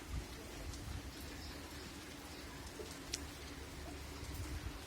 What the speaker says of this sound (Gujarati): અહીંયા ખૂબ જ સરસ વરસાદ છે